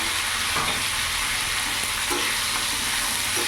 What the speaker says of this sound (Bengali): কিছুক্ষণ ভাজা ভাজা করে নেব।